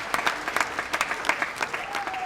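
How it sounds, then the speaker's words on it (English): Audience at a comedy roast show applauds as Prince is introduced, a dense, steady round of clapping from a crowd with a few whoops underneath. "Round of applause for Prince."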